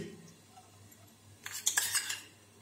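A metal spoon scrapes and clinks against a kadhai while ghee is added for mango halva, a short cluster of bright taps after a quiet pause.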